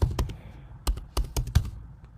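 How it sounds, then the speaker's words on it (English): A password being typed on a computer keyboard during a Red Hat Linux session: a quick irregular burst of about eight close keystrokes with short pauses, no talking. "Yes, so I'm going to type my password."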